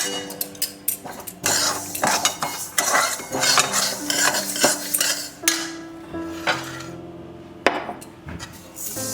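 Mung dal is poured into a bowl and washed, making a busy stretch of close metallic clinks, scrapes and rattles from utensils against the bowl, irregular and fairly loud throughout, with no speech.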